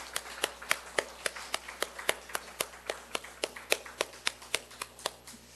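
A church congregation claps together at a Korean women's mission service, sharp claps repeating at a steady, quick rhythm for several seconds over a quiet room.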